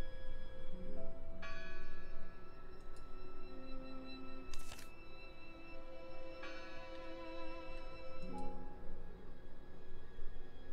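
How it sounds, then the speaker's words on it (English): Church bell in the horror adventure game Draugen tolls several times at uneven intervals, each ring clear and sustained, with a sharp metallic clank midway over a soft background bed. "Listen! The bell! They're still in there!"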